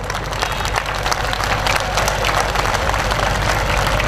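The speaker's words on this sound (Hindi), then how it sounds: "तो एक बार तालियां बजाइए" An audience at a poetry event in Jodhpur applauds steadily and densely. The clapping stays even and unbroken throughout.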